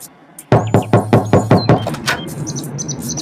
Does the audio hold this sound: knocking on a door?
yes